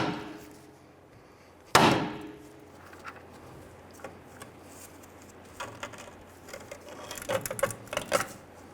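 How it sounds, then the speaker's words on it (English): One loud, sharp hammer strike on a 1994-2004 Ford Mustang steering knuckle to release the tie rod end, followed by quieter clinks and rattling of tools and parts in a garage. "I want to go ahead and strike the knuckle right here, and this should release the tie rod end out."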